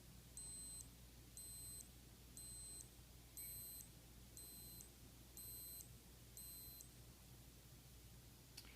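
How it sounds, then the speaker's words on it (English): Casio Pro Trek PRG-600 watch countdown timer beeping at the end of a 10-second countdown, a faint high-pitched double-tone beep repeating about once a second over a quiet background hiss. "You've got that 10-second beep, and that's it."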